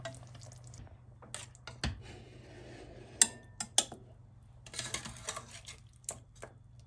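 A spoon clinks and scrapes against a pot while stirring chicken curry, giving sparse irregular metallic taps over a low steady hum, close and fairly quiet, with no talking.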